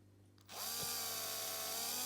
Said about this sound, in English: the first thing to do was to drill some holes in it.